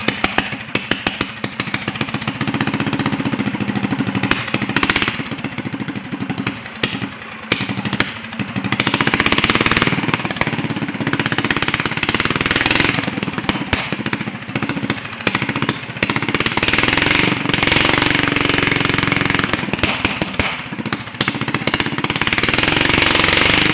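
A Predator small engine, newly installed on a Kandi go-kart with no throttle cable hooked up, fires and runs continuously for about twenty seconds, a loud, rough, steady clatter with slight surges in level.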